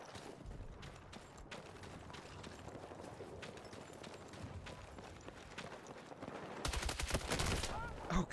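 Rapid pistol gunshots in a first-person shooter video game, a burst of sharp, loud shots clustered near the end over steady background game sound.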